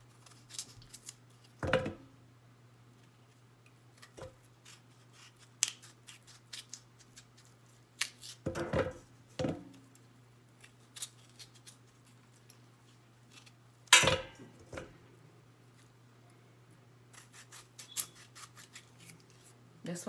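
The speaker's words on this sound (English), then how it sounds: "I cut them in half so they can boil really quickly" A knife slicing potatoes in half on a cutting board for potato salad, giving a few sharp, separate chops spaced seconds apart over a steady low hum, with quiet scraping between cuts.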